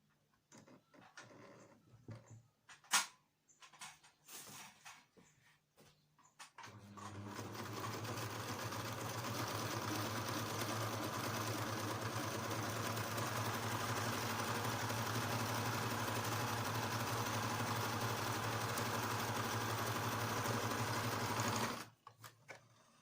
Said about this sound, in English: I'll just start sewing